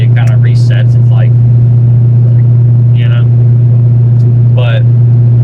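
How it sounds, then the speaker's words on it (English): Corvette exhaust drones with a steady, heavy low rumble while cruising, loud and constant under someone speaking in short bursts. "I'm just kind of cruising in my Corvette down the Joplin, but it is still obnoxiously loud."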